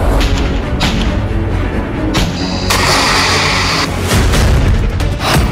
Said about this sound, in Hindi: अब हिजबुल्लाह इसी मिसाइल से इजराइल पर ताबड़तोड़ हमले कर रहा है।